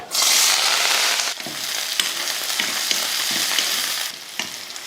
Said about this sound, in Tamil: எண்ணெய் காஞ்சதுமே கொஞ்சம் கடுகுலந்து அடுத்து கொஞ்சம் வெங்காயம் பச்சை மிளகாய் ரெண்டு கொஞ்சம் கருவேப்பில